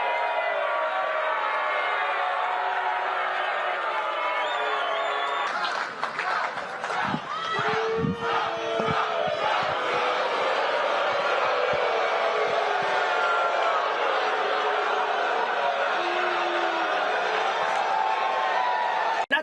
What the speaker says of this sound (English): getting booed, and then a Trump chant that was getting interrupted by more boos